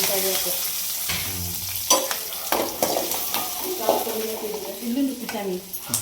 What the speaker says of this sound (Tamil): வெங்காயம் பச்சை மிளகா கருவேப்பிலை